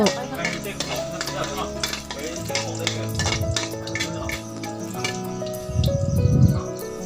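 Mixed vegetables tossed in a pan with sour pork and pork sausage for a northern Thai stir-fry: a spatula repeatedly clinks and scrapes over a low sizzle, with faint background voices or music.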